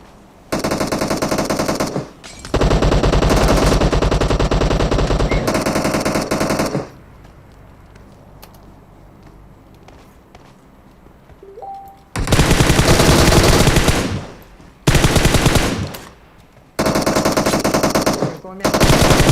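Loud bursts of automatic fire from PUBG Mobile, several sustained rapid volleys of several seconds each, separated by quieter stretches with faint in-game ambience.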